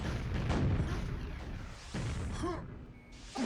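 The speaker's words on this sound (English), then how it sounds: "The rocket." Rocket explosions in a QuakeWorld duel, several heavy booms and blasts in quick sequence amid game sounds, loud and close.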